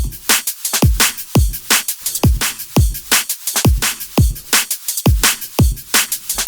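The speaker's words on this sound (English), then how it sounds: "So a standard drum and bass groove there" A fast drum and bass beat loops steadily, with punchy kicks and crisp snares in a tight, driving rhythm, loud and alone.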